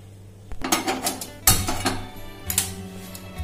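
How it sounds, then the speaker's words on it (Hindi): Fried vermicelli is scraped from a kadhai onto a plate, with a run of metallic clanks and scrapes from a spoon against the pan and dish, close by and with no speech. "ये हमने इसमें से कढ़ाई में से वर्मीसेली निकाल ली है।"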